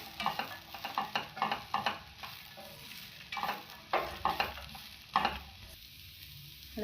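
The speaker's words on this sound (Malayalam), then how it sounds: "തണ്ടിട്ടതിന് ശേഷം നമുക്ക് നന്നായിട്ടൊന്ന് ഇളക്കി യോജിപ്പിക്കാം." Red spinach stems being stirred as they fry in a pan for a Kerala-style thoran, with repeated scraping strokes of the spoon over a steady low sizzle and no talking.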